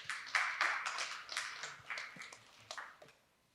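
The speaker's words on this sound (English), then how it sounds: "Give him a round of applause." Audience applause for a speaker on the Polkadot stage at a Paris conference, a burst of clapping that swells quickly, holds steady for a few seconds, then thins out and fades away. No one speaks over it.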